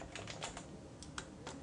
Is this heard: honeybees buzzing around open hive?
no